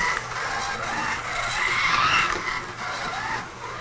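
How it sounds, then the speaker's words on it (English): Slot car drifting around a track, a continuous whirring motor whine with squealing that swells midway and then eases, close and steady, no speech. "it's so much fun to drive because it just drifts so well"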